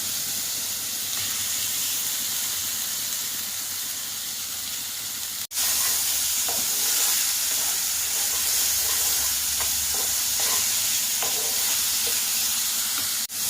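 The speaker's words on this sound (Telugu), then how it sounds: "బాగా ఫ్రై అయ్యేదాకా చేసుకోవాలి. పచ్చివాసన పోయేదాకా వేయించుకోవాలి" Masala paste for a green peas curry fries in a pan with a loud, continuous sizzling hiss, a brief dip partway through, then light stirring taps under the steady sputter.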